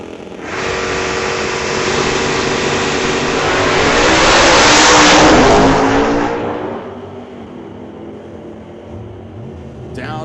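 Ford Fairlane drag race cars launch hard down the strip, engines roaring loud and rising to a peak mid-run before fading into the distance.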